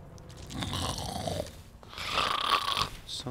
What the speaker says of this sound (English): Sounds like something snoring.